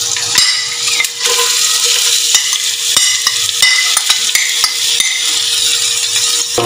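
Green chilli, onion and garlic-ginger paste fry for a lamb paya curry while a utensil stirs and knocks against the pan in loud, irregular clacks over a constant sizzle.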